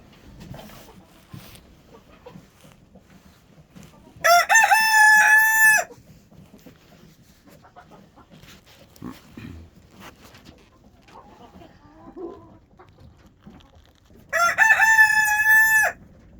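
Chickens at a feeder, with two loud rooster crows about ten seconds apart over soft, scattered pecking and clucking.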